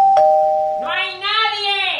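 A doorbell gives a single clear chime at the start. A voice follows, speaking loudly and close.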